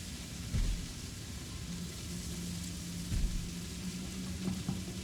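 Steady rain falls in the video game Project Zomboid, a quiet, continuous hiss with faint low thuds scattered through it and no voices.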